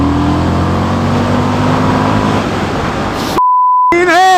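An Indian FTR motorcycle pulls a 4th gear roll-on, its engine drone rising steadily and loud for about three seconds before cutting off abruptly, followed by a short electronic beep and warbling tones.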